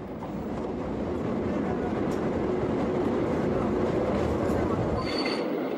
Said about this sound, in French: ce train construit il y a près de 100 ans en Europe continue de fonctionner ici